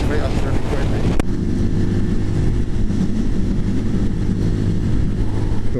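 Strong wind buffets a rider testing a motorbike, a heavy roaring rumble pressing on the microphone throughout with a sharp knock early on, loud and close.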